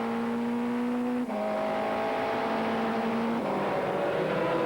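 An Audi endurance race car runs down past the pits during a 2001 American Le Mans Series race, a loud steady engine whine with clear gear shifts as the pitch drops and climbs again.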